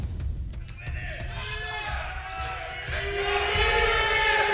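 Esports audience at a Summoners War tournament cheering and shouting as a crowd, a broad sustained roar that builds louder toward the end, with voices mixed in.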